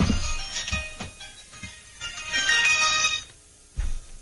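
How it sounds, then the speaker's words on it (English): A cell phone rings with an incoming robocall, its electronic ringtone repeating in loud, close bursts with a short silent gap before the last ring. "Now, I'm getting a lot of robocalls on my cell phone lately"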